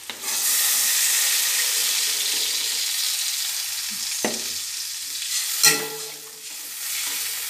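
Water goes into a frying Ilish fish curry with green chillies, and the loud steady sizzle turns into hissing bubbling. Near the end a few sharp spoon knocks and stirring scrapes follow, with no talk.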